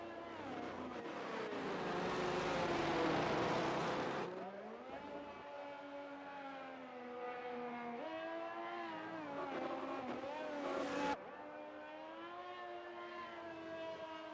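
Race car engines in a racing video game on a Mexico track, including a McLaren, whining and revving loudly and steadily with pitch sweeps as cars slide around corners, no talk.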